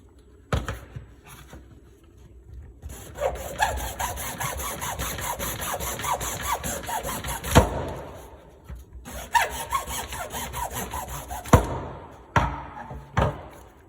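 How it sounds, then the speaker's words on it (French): A hacksaw rasps steadily back and forth through a plastic tube from a Kärcher vacuum cleaner in long bursts, with short pauses and a few knocks between strokes. "avec la scie, ça peut être une scie à métaux, on va découper les morceaux restants de plastique"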